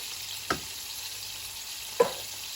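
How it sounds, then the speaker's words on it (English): Tomato sauce sizzles and fries steadily in a hot pan for Ghanaian tomato gravy, with two soft stirring scrapes over the constant hiss. "I'm going to add my tomato sauce now."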